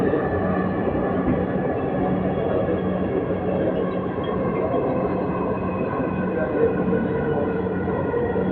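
A Dhaka metro rail train runs between Uttara and Mirpur, heard from inside the carriage as a steady low rumble and hum that holds evenly, with a faint background voice.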